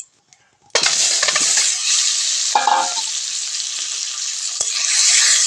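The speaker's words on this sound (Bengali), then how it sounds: "ডিমগুলো কড়াইতে দিয়ে দেব।" Eggs drop into hot mustard oil in a wok: silence breaks into a sudden loud sizzle that settles into steady frying with a few faint clinks and spatters.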